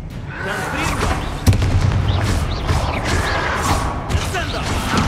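A Confringo fire spell blasts in Hogwarts Legacy with a sudden booming burst, followed by dense, continuous rumbling battle noise and game sounds, while voices talk throughout.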